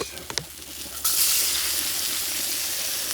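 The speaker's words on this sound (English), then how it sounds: "And what we're gonna do is dump in the onions." Onions dumped into a hot discada, a few clanks first and then a sudden loud sizzle that keeps frying steadily and close by.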